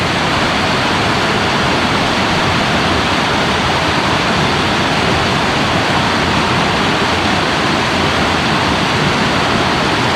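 The Melendez River in Colombia rushes loudly and continuously, a dense, unbroken roar of water close by with no voices over it.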